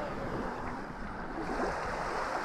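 Calm, flat Baltic Sea surf washes onto the beach at Grzybowo near Kołobrzeg, a steady broadband rush mixed with light wind noise on the microphone, close and fairly loud, with no voices.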